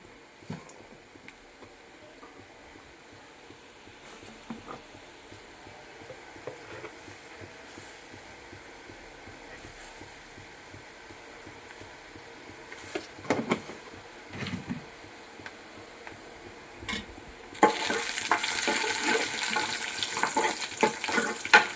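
Tempering for tomato rasam sizzles in a pan while being stirred: a low, quiet crackle with scattered stirring scrapes, then a sudden loud, steady burst of sizzling near the end.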